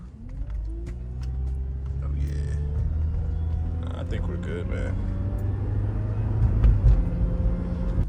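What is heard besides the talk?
2009 Honda Accord driving around the block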